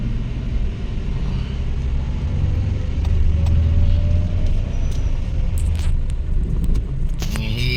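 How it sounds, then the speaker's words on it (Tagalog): Busy road traffic rumbles continuously from inside a cruising vehicle, a loud steady low drone of engines and tires with occasional higher hisses and clicks, and no talking. "Madaming sasakyan."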